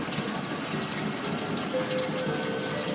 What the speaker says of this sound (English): Pump's ramping up.